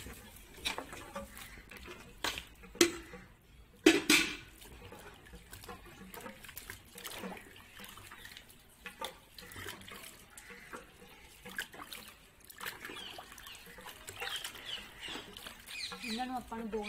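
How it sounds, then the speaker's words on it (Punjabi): Carrots being washed by hand in a basin of water in a Punjabi village kitchen, giving soft splashing and sloshing with a few louder splashes near the start, while no one speaks. "ਹੁਣ ਗਾਜਰਾਂ ਨੂੰ ਧੋਵਾਂਗੇ ਆਪਾਂ।"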